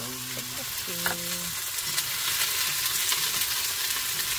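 Onions fry for tteokbokki with a steady, close sizzle and occasional stirring. A short burst of speech comes at the start, then the frying continues alone.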